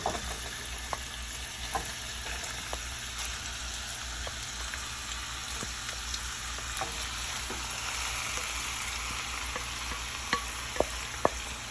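Seasoned ground beef fries in an oiled pan for beef enchiladas, a steady close sizzle with scattered sharp crackles and spatula scrapes as it is stirred, no voices.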